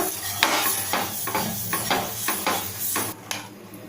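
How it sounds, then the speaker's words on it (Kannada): Half an onion dipped in oil is rubbed across a hot dosa griddle for cucumber dosa, giving a series of rhythmic sizzling scrapes, close and fairly loud, with no talking. "ಇದಕ್ಕೆ ಒಂದು ಸ್ವಲ್ಪ ಎಣ್ಣೆ ಹಾಕ್ಕೊಂಡು ಈರುಳ್ಳಿಯಿಂದ ಇಟ್ಕೊಳ್ಳೋಣ"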